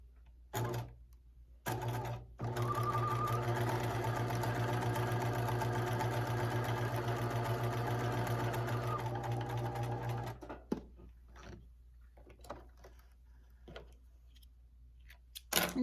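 A sewing machine stitches the sleeve of a fleece pullover in one loud, steady run of about eight seconds, with a few short mechanical bursts before it and quieter clicks and handling noises after it stops.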